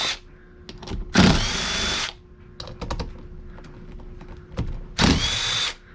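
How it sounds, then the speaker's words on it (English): An impact wrench on reverse removes the wheel center bolts on a Honda CT70, firing two loud, sustained bursts about a second long each, with quieter clicks and handling noises between them. "I'm going to use my impact to do that"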